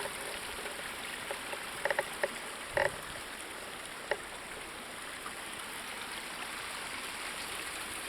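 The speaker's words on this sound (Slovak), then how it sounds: "No a takto vyzerá tento potok" A flowing stream murmurs in a steady, faint wash of water, with a few small splashes and clicks rising briefly above it.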